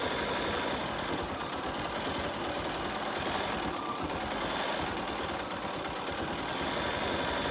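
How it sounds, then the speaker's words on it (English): An embroidery machine stitches out lettering with spun polyester thread, a steady, faint mechanical whir and rapid needle chatter running evenly throughout with no talk. "it's just going to stitch out all of our words and our instructions on there"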